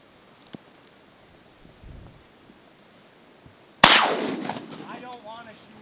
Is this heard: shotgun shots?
yes